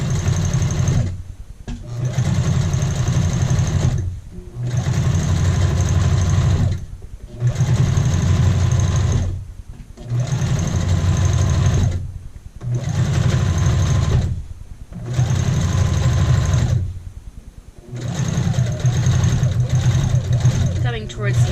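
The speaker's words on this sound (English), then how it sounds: "Go ahead now and do your understitch so you're right next to the seam, but you're on the under collar." A sewing machine runs understitching along a child's shirt collar, close to the seam on the under collar, in a steady series of about eight whirring bursts separated by short pauses, loud and close.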